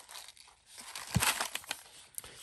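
Plastic packaging crinkles and crackles in bursts, quiet at first then louder and busier, handled close to the microphone with no talking.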